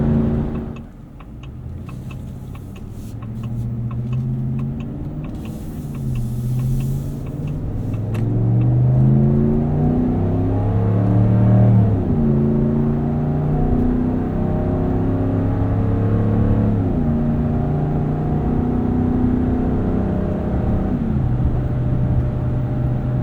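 A 2026 Ram 1500 Longhorn Limited with the 5.7-liter HEMI V8 pulls a trailer, its engine droning loud and steady from inside the cab, revs climbing and falling in smooth waves through the gears.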